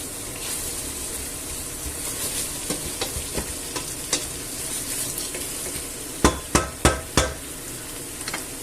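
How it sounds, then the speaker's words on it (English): Meatballs being stirred through sauce in a pot for a homemade stew, a soft steady bubbling bed broken by scattered scrapes and a run of four sharp utensil knocks against the pot near the end, with no talking. "Give it a mix about so they get covered with the sauce."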